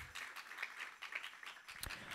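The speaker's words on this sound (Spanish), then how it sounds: "Dale palmas al Señor, dale palmas al Señor" A church congregation clapping for the Lord during a Spanish sermon, faint and steady rhythmic hand claps at a brisk even tempo, heard from a distance.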